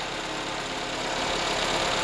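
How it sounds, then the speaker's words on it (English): A 2013 Toyota RAV4 engine runs at a steady idle, a loud, constant hum with a slight rattle that holds unchanged throughout, with no voices. "Now that the vehicle has been running for a minute,"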